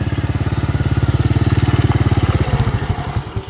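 A motorcycle runs close by on a ride through a tea plantation, its engine putting out rapid, even pulses that hold steady and then ease off near the end.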